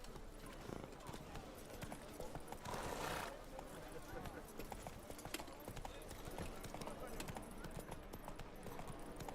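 Roach the horse in The Witcher 3 video game, rhythmic hoof clip-clops running throughout with a brief whinny, mixed with game sound and voices.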